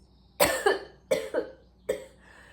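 A series of harsh coughs, close up, in three bursts with short gaps, some bursts doubled into quick pairs.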